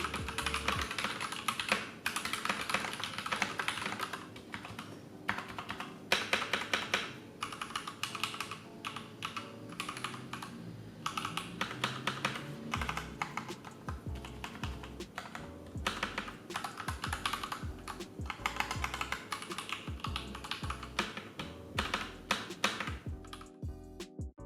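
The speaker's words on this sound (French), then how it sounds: "les frappes s'enchaînent très bien et le clavier réagit parfaitement" Steady typing on an Anne Pro 2 compact mechanical keyboard fitted with quiet linear switches, a close, continuous stream of crisp keystrokes with irregular rhythm, occasional bursts and brief pauses, and no voices.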